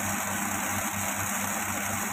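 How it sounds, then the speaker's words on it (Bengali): A coil winding machine runs steadily while winding the running coil of a 48-inch high-speed fan motor, giving a close, continuous motor hum with a faint pulsing rhythm and a constant high whine. "মেশিনে লাগিয়ে আমি আবার রানিং কয়েলটাকে করতে লাগবো।"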